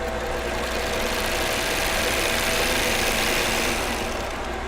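An overlock sewing machine runs continuously while sewing and cutting fabric, a dense steady buzzing whir heard close and alone throughout.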